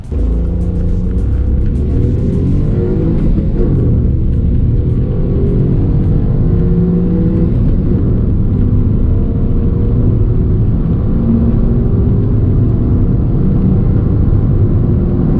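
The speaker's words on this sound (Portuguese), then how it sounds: "Inclusive a gente fez um 0 a 100 desse motor, dá só uma olhadinha." A Hyundai HB20 1.0 engine revs hard and climbs through its five-speed gearbox in a 0 to 100 run, a loud, close roar with brief shifts between pulls.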